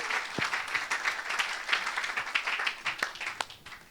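A church congregation at a gospel service applauds for Jesus in steady, dense clapping that carries on throughout, fairly distant and reverberant, with faint crowd voices mixed in.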